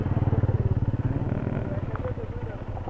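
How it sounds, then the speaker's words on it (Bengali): A motorcycle engine putters steadily nearby on a road with water across it between Sylhet and Bisanakandi. The pulsing drone runs the whole time under people talking. "ওই যে একটা বাইক পার হচ্ছে সোজা"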